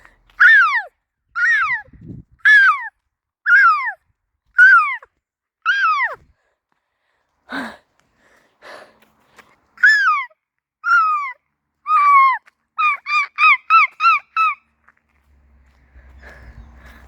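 Seagulls calling in Exmouth or Exeter, a series of loud, clear, downward-sliding cries repeated in a slow rhythm, then a quicker run of short yelps, close by against quiet surroundings.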